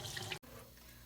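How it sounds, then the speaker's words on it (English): Potatoes rinsed under a running kitchen tap, a close rush of water splashing that cuts out abruptly and then resumes more softly, with no voices. "just give your potatoes another quick rinse"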